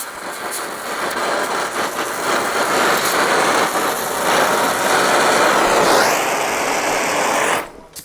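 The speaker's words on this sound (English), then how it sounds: "I want the tip of that flame to lick the metal." A blacksmith's forge flame roars steadily while heating metal, a dense broadband rush that swells slightly, then cuts off abruptly near the end, with no talk.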